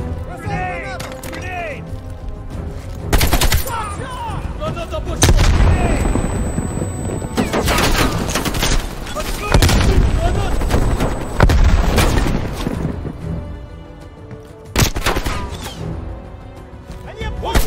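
Gunfire and heavy booms in Call of Duty: Black Ops Cold War erupt in loud, dense bursts across the scene, mixed with shouted voices and a busy game soundscape.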